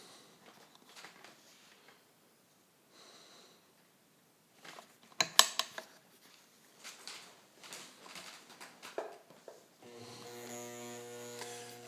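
Vintage Kenmore 117.552 rotary sewing machine, made by White, stitching through leather with red thread: a steady, fairly quiet mechanical whir near the end, preceded by scattered handling clicks and rustles.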